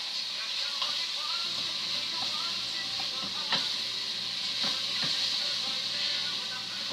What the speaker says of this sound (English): So that's all sauteing there.